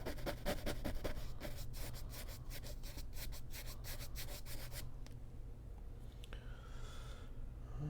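A paintbrush scrubs acrylic paint onto canvas in fast rhythmic rubbing strokes for about five seconds, close and soft, then trails off into quiet brushing over faint background hiss.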